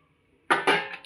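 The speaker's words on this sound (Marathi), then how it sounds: "आता आपण हे गरम झालेलं पाणी त्याच्यात टाकायचं आहे" Hot water splashes into a pot of spicy mutton curry in a pressure cooker, with two quick close pours landing loud after a brief quiet, then a short trailing clink.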